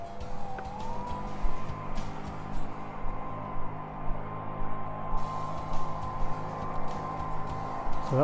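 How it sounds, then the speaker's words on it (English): A leaf blower roars steadily outdoors, blowing weeds and leaves across a field, a continuous motor whine with fluctuating loudness and no speech. "the leaf blower is blowing the weeds and the leaves"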